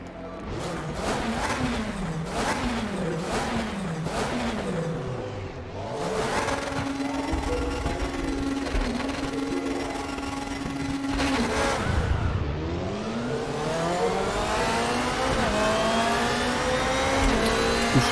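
GT2 race cars launch from the start at Imola in the RaceRoom racing game, engines revving and climbing through gears in repeated rising sweeps, with a sustained roar as the pack accelerates away.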